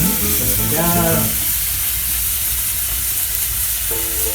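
An egg hits a hot pan over a wood fire, with a loud steady sizzle that fills the whole stretch as the frying carries on, and a voice talks briefly over it at the start and end.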